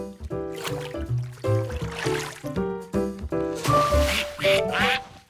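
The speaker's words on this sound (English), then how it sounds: "Ducks!" Cartoon ducks quack in a busy run of short honking calls, mixed with bright music-like tones and splashy water sounds from a pond scene.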